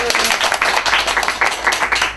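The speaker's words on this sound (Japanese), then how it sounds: "拍手。" A studio audience applauds, dense steady clapping throughout the short stretch, loud and close, with no voices over it.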